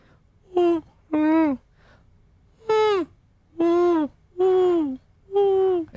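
A human voice mimics an owl's hoot, giving a series of six or so short, evenly spaced hoots with pauses between them, close and clear with no other sound.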